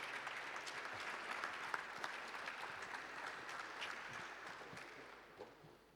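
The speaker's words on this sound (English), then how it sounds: "Round of applause" A conference audience gives a round of applause as guests are invited onto a stage at a DeFi fireside chat, steady clapping filling the room for several seconds before tapering off.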